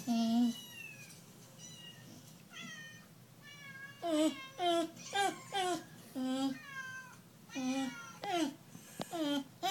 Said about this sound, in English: You want to go play with those kitties? I know. But they're not inside the computer.